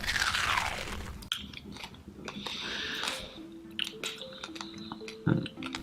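Crunching bites while eating a large, salty roasted ant, with a few sharp crisp cracks and moist chewing sounds close to the mic, followed by quieter mouth noises and small clicks.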